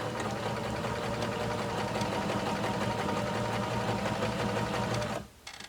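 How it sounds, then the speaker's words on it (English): A Baby Lock Zest sewing machine chain-stitches fabric pieces one after another, its steady, rapid mechanical hum running loud and close before stopping abruptly near the end. "we can chain piece these one after another, just stitching these without having to trim in between"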